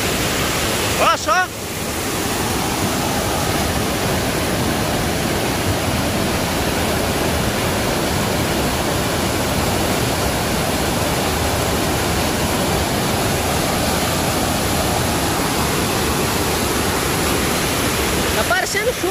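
Water from a dam that burst under its load rushes in a loud, unbroken roar that stays steady throughout, with a brief knock near the start.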